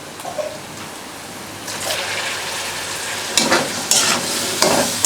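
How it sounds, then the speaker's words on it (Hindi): Potatoes sizzle and fry in hot oil with powdered spices in a kadhai, stirred in repeated scraping bursts that grow louder toward the end, with a steady frying hiss underneath and no talking. "अब हम इसमें आलू ऐड करते हैं।"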